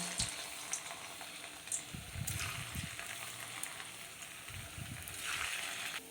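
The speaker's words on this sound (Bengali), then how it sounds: "এবার আমি ভেজে নিচ্ছি ছানাগুলোকে। দু পিঠ লাল লাল করে ভেজে নেব।" Chhana (cottage cheese) balls fry in ghee for kofta curry, giving a steady, moderate sizzle with soft bubbling throughout, broken by a few low clatters from the pan and utensil.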